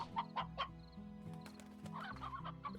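A hen in the Slime Rancher video game clucks in quick, repeated bursts over a soft background music bed, close and fairly quiet, the clucks clustered at the start and again toward the end.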